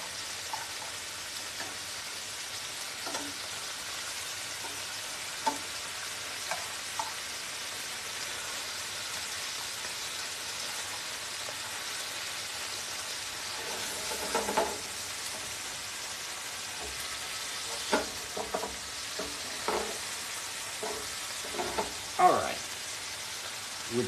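Scallops sizzle steadily in a hot pan with anchovies and capers, under a constant frying hiss broken by scattered utensil taps and clinks, busiest near the end.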